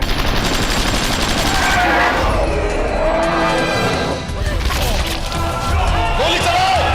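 Action-movie gunfire, loud sustained volleys and crashes mixed with shouting and scene noise, running continuously at close range throughout.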